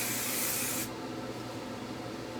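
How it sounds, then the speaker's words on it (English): Hairspray is sprayed onto freshly wand-curled hair in a close steady hiss that cuts off abruptly under a second in, leaving a soft lingering rustle. "I'm just going to do my final spray"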